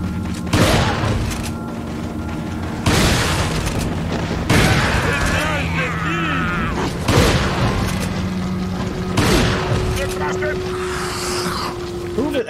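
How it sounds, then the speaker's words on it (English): Shotgun blasts in Resident Evil 4 HD on Professional Mode, about five loud, sharp booms spaced a couple of seconds apart, close up over game sound, with someone talking in between. "we're gonna shotgun this"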